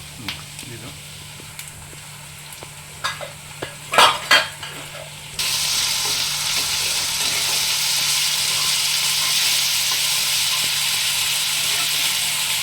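Chilli, ginger and garlic spice paste frying with onions for a Bengali rohu fish curry with potatoes, a few clinks and scrapes of a spoon, then a sudden loud, steady sizzle as the paste hits the hot oil.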